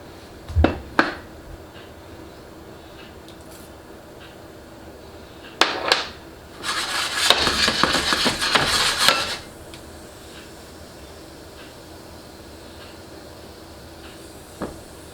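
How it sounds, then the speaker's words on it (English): Hot oil poured from a pan into masoor dal, a short sizzling, hissing rush lasting a few seconds, preceded by a few sharp metallic clinks of the pan, in a quiet home kitchen. "Then we're gonna put the oil into the dal and then do a little back and forth to get all the oil out of the pan."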